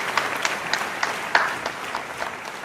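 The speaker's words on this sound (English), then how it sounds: "A round of applause." Studio audience applause welcoming comedian guest Mike Griot onto a talk show, a steady patter of clapping with a few sharper claps standing out.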